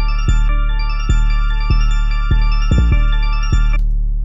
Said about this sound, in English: Hear the 808 go exactly with the melody on its lowest notes.